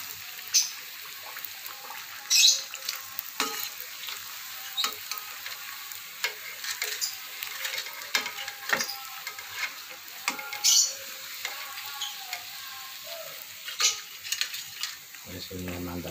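Rempeyek peanut crackers frying in hot oil, a steady close sizzle with scattered stirring and scraping clatters from utensils against the pan.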